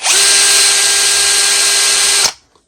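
Parkside impact driver spinning an impact bit freely, a loud steady high whine held for about two seconds before cutting off abruptly and spinning down.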